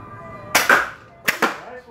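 Shotgun blasts at a clay pigeon shooting range: two sharp loud reports about three-quarters of a second apart, each followed by a quick echoing tail, close to the listener.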